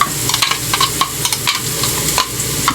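Chopped garlic sizzles in hot oil in a pan while a utensil stirs it, with a steady close frying hiss broken by irregular scraping clicks of the stirring, loud and alone.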